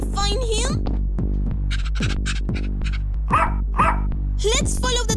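A dog in an Among Us 3D animation barks repeatedly in quick, punchy bursts over a deep steady hum, while cartoon voices talk excitedly between and over the barks.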